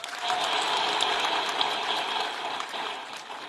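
An audience in Bangladesh gives loud, sustained applause for the women hailed as heroines of the July revolution. The hall fills with a dense, steady wash of clapping with a few sharper claps standing out, and no voices over it.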